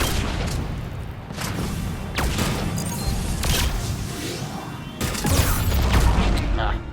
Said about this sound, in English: Just the backwash from the explosion that got me.